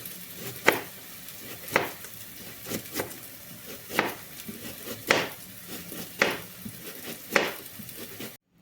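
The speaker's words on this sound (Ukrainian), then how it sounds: "Червону цибулю можемо нарізати півкільцями, я буду нарізати пір'ячком." A knife slices a red onion into thin strips on a cutting board with eight or so crisp, evenly spaced chops about a second apart. They are close and clear, with no talking.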